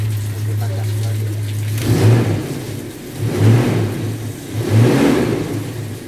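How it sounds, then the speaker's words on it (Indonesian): Car engine revving three times in a row, each throttle blip swelling over a steady low idle hum, fairly close and loud, with a constant noisy background. "Kita gas lagi."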